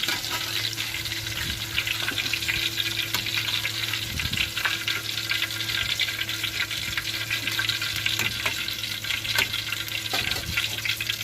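Chili bajji fritters sizzle steadily in hot oil for about eleven seconds, a constant close crackle with occasional faint clinks from a utensil and no talking.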